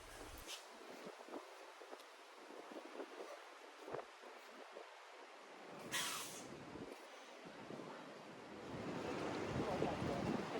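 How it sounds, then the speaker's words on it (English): River rapids at low tide in Saint John, New Brunswick rush and foam toward the bay, a broad, continuous roar mixed with wind buffeting on the microphone and swelling louder toward the end. "the water rushes past us, swirling and foaming as it makes its way out to sea"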